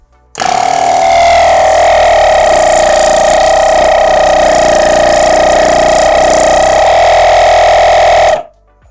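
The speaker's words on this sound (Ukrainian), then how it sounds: "компресор на живлення 12 вольт і послухаємо, як він буде працювати" A BELAUTO BK45 Zubr 12-volt car air compressor switches on and runs with a loud, steady mechanical whine and buzzing hum for about eight seconds, then cuts off abruptly.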